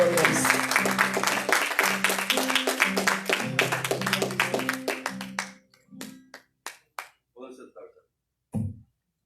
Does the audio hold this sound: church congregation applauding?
yes